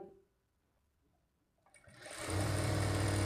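Near-silence gives way to a sewing machine starting up as it stitches a plain blouse, settling into a steady, loud, close whirring run.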